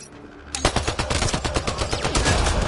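Rapid automatic gunfire erupts in the video game Mass Effect Andromeda and keeps firing as a dense, loud burst of overlapping shots. A quieter background hum comes just before the volley.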